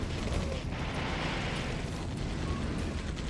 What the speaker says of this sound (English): Airstrike coming in, but this time it's not going to be a good airstrike.